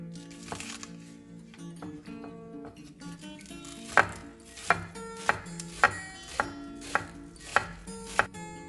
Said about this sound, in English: I'm going to chop the scallions.